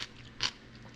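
A single crisp bite into a crunchy homemade refrigerator pickle, a short sharp crack near the middle, close and clear over quiet room tone.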